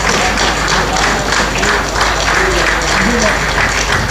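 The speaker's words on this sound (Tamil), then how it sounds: "ஸோ இவரை வந்து நீங்கள் கைத்தட்டி" Audience clapping for an honoured guest at a thanksgiving meeting, a dense, loud wash of applause filling the room and lasting the whole stretch, with voices mixed in.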